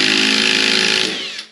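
An old, worn impact driver runs in one steady burst, a loud, close, buzzing motor whine that holds level for about a second before winding down, with no talking over it.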